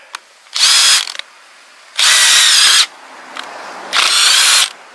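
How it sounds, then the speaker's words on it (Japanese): A power drill bores a hole during strawberry-farm mulch-laying preparation, whining in three loud, close bursts of under a second each with short pauses between and no talk. "一つあのドリルで穴を開けるところだけ一箇所だけちょっと見せてもらえますか"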